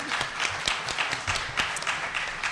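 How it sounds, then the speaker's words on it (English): A seminar audience claps briefly, a scattered patter of hands at moderate distance with a little crowd murmur, over a couple of seconds. "Right, clap for them."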